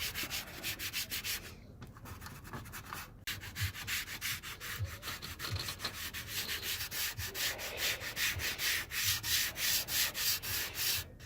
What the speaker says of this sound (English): We'll go ahead and start by getting her sanded.